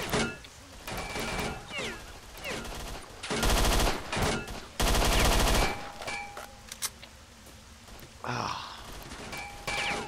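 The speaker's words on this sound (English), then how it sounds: "Isn't the MP5 like one of the most accurate submachine guns in the world?" An MP5 submachine gun fires in S.T.A.L.K.E.R.: Shadow of Chernobyl, with two loud, sustained bursts of rapid shots in the middle and quieter scattered game sounds and clicks around them.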